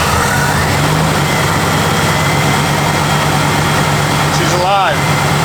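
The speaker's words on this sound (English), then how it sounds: "when we fire up a rebuilt motor or an engine that's been sitting this long, over 40 years" Rebuilt engine of a 1964 Chevrolet Corvette, run after sitting over 40 years, idling in a steady low rumble throughout, loud and close, with a brief squeal near the end.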